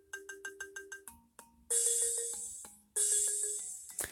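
A Deadpool ringtone plays alone: a quick run of bright plucked synth notes, then longer electronic chords with a hissy top layer, repeating the phrase clearly at moderate volume.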